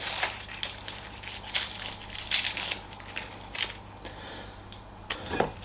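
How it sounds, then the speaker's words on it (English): An onion is topped, tailed and peeled with a knife, giving a string of short, close crackles and crisp snaps spread unevenly across a quiet background, with a louder cluster of crunches near the end. "all I'm going to do is top and tail the onion, give it a little peel."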